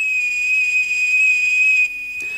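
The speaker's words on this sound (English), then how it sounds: "as she heard the boiling kettle whistle" A boiling kettle gives a loud, steady high-pitched whistle that holds constant for about two seconds, then cuts out abruptly, with no other sound around it.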